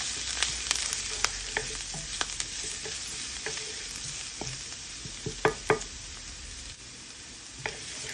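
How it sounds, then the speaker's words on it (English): Garlic fries in a pan for chicken ginger soup, giving off a steady, close sizzle broken by sharp clicks and taps as it is stirred. "Go ahead and add our garlic. We're going to just cook this until it's fragrant,"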